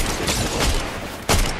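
Gunshots in Fortnite Chapter 5 Season 2 during a fight with the Poseidon boss: a few loud, close reports over a busy game background, the last one sharp and distinct.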